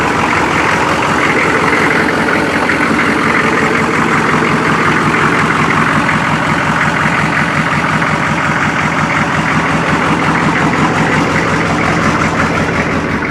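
A GM 6.5 Detroit diesel in a five-speed plow truck idles as it warms up, a steady, loud, close rattly rumble with an even pulsing beat and no talking.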